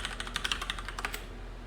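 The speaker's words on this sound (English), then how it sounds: "I'll type it in." A password is typed on a computer keyboard: a quick, even run of light, close key clicks, fairly quiet and with no talking over it.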